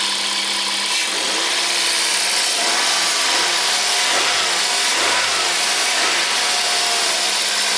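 A Toyota Corolla engine runs loudly and steadily nearby with a newly replaced serpentine drive belt, rising in a few brief revs before settling back to a constant hum.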